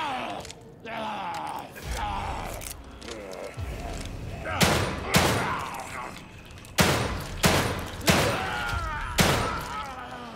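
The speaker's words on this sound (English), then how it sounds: "Bro took all kinds of shots." Gunshots in The Evil Within 2 crack out as loud, separate single blasts, about six heavy reports spaced a second or so apart in the second half, with scattered thumps and game noise before them.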